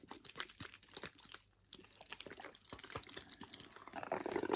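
Water is poured into a tarantula enclosure for a Cameroon red baboon tarantula, giving faint close trickles, drips and light crunchy rustling of damp substrate, with small irregular splashes throughout.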